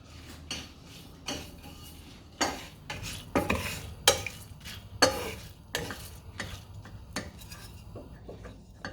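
Whole spices dry roasting in a pan, stirred with metal utensils, giving a run of clinks and scrapes against the pan at irregular intervals with a faint dry sizzle underneath, close and moderately loud.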